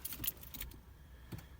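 Car keys for a 2003 Lincoln Town Car jangle faintly at close range, a few quick metallic clinks in short bursts against a quiet background.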